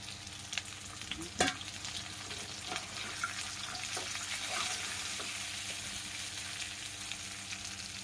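Okra frying in a pan, a soft continuous sizzle with occasional stirring scrapes and one louder clink near the start, heard alone without talking.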